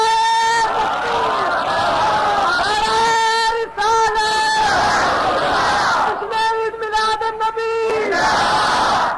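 A large crowd at a religious gathering celebrating the Prophet's birth roars slogans in unison, with loud, sustained call-and-response shouts repeating in waves and voices audible between them.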